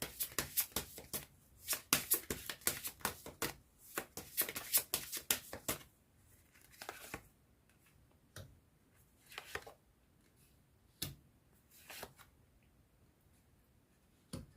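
Fortune-telling cards being shuffled and gathered, a quick burst of crisp flicks and riffles that gives way to scattered soft taps and slides, close and quiet.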